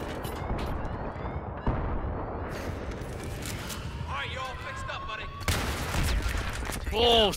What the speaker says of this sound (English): Oh god, you're shooting us.